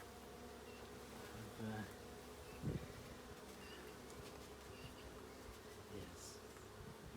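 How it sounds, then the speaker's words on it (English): An agitated honeybee hive giving off a constant dense buzz, with a quiet thump or two over it and one brief spoken word. "you can tell the sound of the hive has changed"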